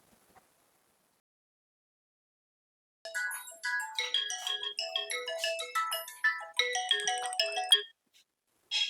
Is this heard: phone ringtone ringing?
yes